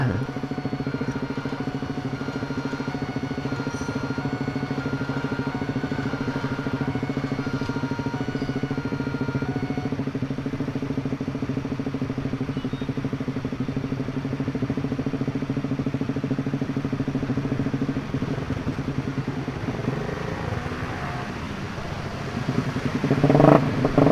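A custom motorcycle engine runs steadily at close range, a continuous low rumble with firing harmonics that briefly rises in a short rev at the end, no voices over it.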